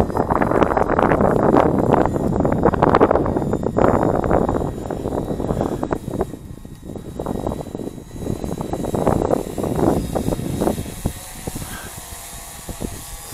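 Heavy wind buffets the microphone during a cold-weather drone flight over Lake Huron, giving loud, uneven rumbling gusts that rise and fall, with a faint motor whine underneath.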